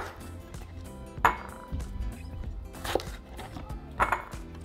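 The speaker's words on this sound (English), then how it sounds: "So now we're just going to cut our tomatillos in half." A knife halves washed tomatillos on a cutting board, with a few distinct chops and clinks spaced about a second apart over a soft background hum.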